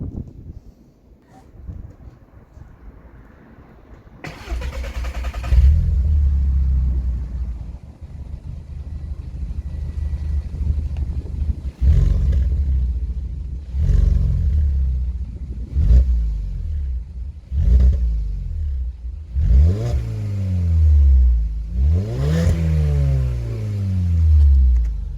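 An Audi A3 8P engine cranks and catches after a quiet start, then idles with a deep rumble before a series of sharp revs rising and falling, close and loud, without talk.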